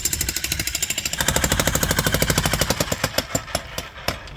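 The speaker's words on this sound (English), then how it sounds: "you borrow a jackhammer from a friend for free" A borrowed jackhammer breaks up the floor of a mobile home, a loud, fast, evenly hammering burst of close impacts that keeps pounding for several seconds without talk.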